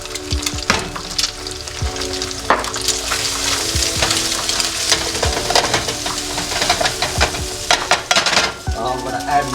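Egg and chopped garlic frying in butter in a pan, a steady close sizzle with stirring scrapes and occasional utensil knocks against the pan throughout.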